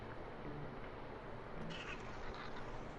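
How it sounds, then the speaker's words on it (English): A cat gives one faint, unusually deep meow midway through, low and drawn out over a quiet background hum. "That's the weirdest meow I've ever heard from a cat."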